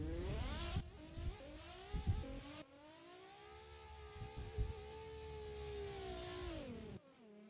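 Drift car engines wail at high revs during night qualifying at a drift event, rising and falling pitch with tire noise, fairly distant and continuous.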